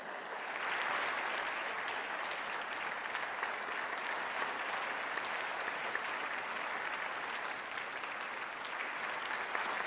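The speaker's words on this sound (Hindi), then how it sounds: "आप सब अपनी भावनाओं को तालियों के माध्यम से मंच तक पहुंचाएंगे" Sustained, dense applause from a large audience welcoming the Prime Minister at an education summit in Varanasi, steady and loud throughout with no speech over it.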